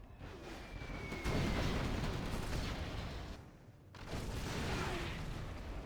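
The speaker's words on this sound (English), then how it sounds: "Here comes the artillery from Marakar." In a USA vs Infantry strategy video game, artillery fire arrives as dense, loud rumbling bursts that swell, fade briefly, then surge again, with no voices.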